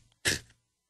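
A single sharp sneeze bursts out close and loud, brief and alone, followed by quiet.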